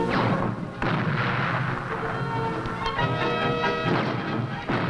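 A 1976 bicentennial Fourth of July fireworks display in Kenosha booms and crackles continuously, with dense overlapping explosions and sharp bursts sustained at high loudness throughout.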